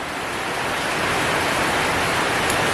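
Steady heavy rain falls outdoors in Thailand, a dense, loud, continuous hiss of downpour with no break and no voices.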